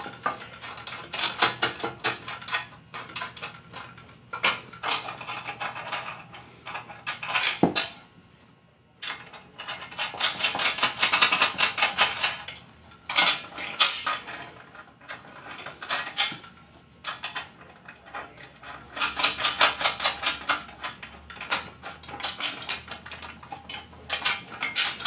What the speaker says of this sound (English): just hand tighten the nuts on there.